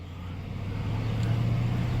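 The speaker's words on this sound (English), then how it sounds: "give her a little throttle" A car engine idles low and steady, its hum rising slightly as a little throttle is given during an OBD2 diagnostic check.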